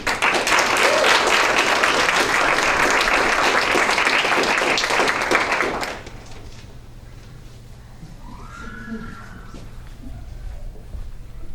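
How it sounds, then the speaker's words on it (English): An audience at a story slam applauds a storyteller with dense, steady clapping for about six seconds, then it stops abruptly, leaving quiet room tone with faint scattered sounds. "A warm round of applause, please, for Renee."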